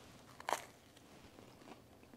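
A single crisp bite into a warm, crusty, buttery dinner roll, one sharp crunch near the start followed by a fainter crackle and quiet chewing, close and otherwise silent.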